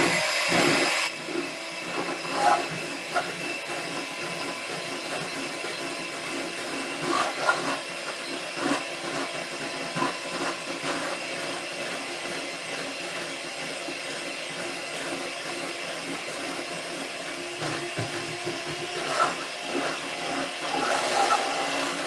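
An electric mixer beats Betty Crocker dark chocolate cake batter in a home kitchen, giving a steady whirring drone with slight rattles and fluctuations that carries on for the whole stretch and is heard on its own.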